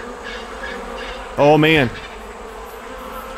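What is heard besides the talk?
bees buzzing in video game ARK: Crystal Isles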